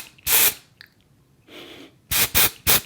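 An aerosol can of setting powder sprays in short hissing bursts: one long puff, a softer one, then three quick blasts close to the microphone.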